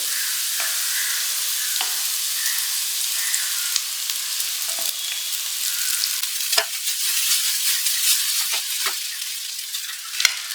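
Vermicelli frying with carrots and beans in a pan over low flame, a bright steady sizzle with frequent sharp spatula scrapes and taps against the pan, close up and without talk.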